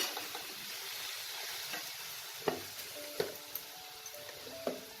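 Egg masala sizzling in a pan, a dense close frying hiss with a few sharp crackles and spits as a little water goes in, steady throughout and without talking.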